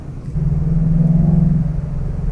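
A 2015 Ford Mustang GT's Ford Performance sport exhaust revs briefly on the throttle to about 2,500 RPM, a deep engine note swelling for about a second and then easing back, close by with no talk.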